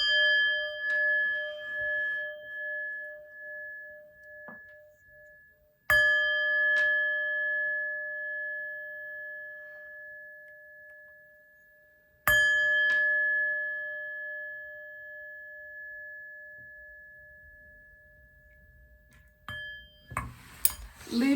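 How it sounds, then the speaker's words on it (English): Chimes struck three times at roughly six-second intervals, each strike a bright metallic ring that sustains and slowly fades in quiet surroundings, followed by a brief shuffle of handling noise at the end. "But first, let's chime."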